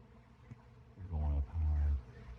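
Honey bees swarming from a colony in September buzz loudly close by, with two strong droning bursts in the middle of the stretch over a faint background hum.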